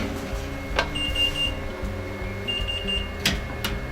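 A Patamix machine hums steadily while running a pâte à choux program with butter melting in, its motor drone continuous with faint high whines and a few light clicks, no talking.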